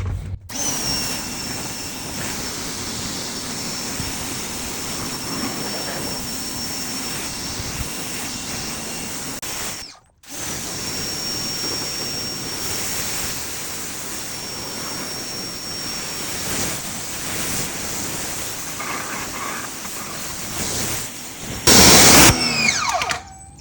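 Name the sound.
rinsing a motorcycle with water spray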